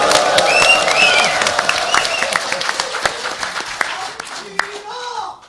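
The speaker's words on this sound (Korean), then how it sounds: "정병국 의원님께 좀 더 환호와 함께 박수를 쳐주시면 감사하겠습니다" An audience at a Gyeonggi Province policy debate forum held at the National Assembly breaks into applause and cheering, dense clapping with shouts and whistles that gradually thins out, voices mixed into the crowd noise.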